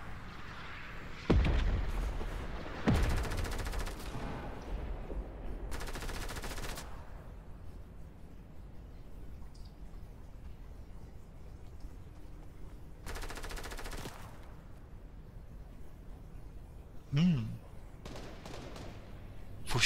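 Gunfire in Fortnite comes in a few distant bursts and separate shots with quiet stretches between them, faint under a low game ambience.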